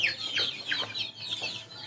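Two-month-old chickens in a small backyard coop beside a house, clucking and chirping repeatedly in quick, overlapping calls, close and fairly loud throughout.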